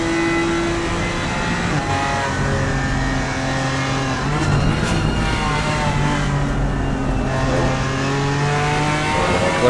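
GT4 race cars, a McLaren and a BMW, battle at Donington, their engines droning loudly and continuously with rising and falling pitch as they rev and shift, close and sustained throughout.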